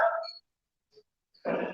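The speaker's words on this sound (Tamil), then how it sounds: "நாய் கட்டிட்டு வருது." A dog barks twice, sharp and fairly close, with a short quiet gap between the two barks.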